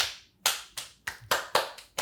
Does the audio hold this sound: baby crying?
no